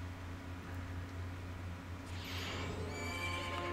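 A horse neighs once in The Legend of Zelda: Majora's Mask, a bright whinny rising over a steady low electronic hum, moderately loud.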